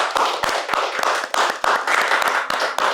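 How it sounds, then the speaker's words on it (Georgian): A group clapping at a quiz-style game show, a steady run of sharp, close claps with roughly even spacing for about three seconds, without talk. "ტაში დაუკრათ."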